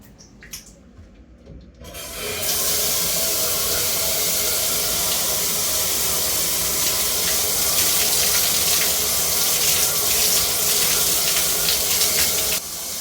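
A GoPro battery is rinsed under running water after a soft handling rustle; a loud, steady close splash and rush of water begins about two seconds in and continues nearly to the end.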